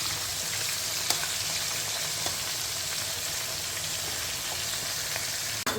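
Onions fry in hot oil previously used for bitter gourd, producing a loud, dense, continuous sizzle with a few small pops and no talking.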